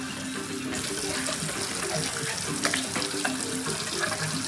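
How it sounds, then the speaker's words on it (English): Hot water runs steadily from a tap to rinse pins, a continuous, close splashing rush with a few small clinks and knocks over it. "But I'm using hella hot water."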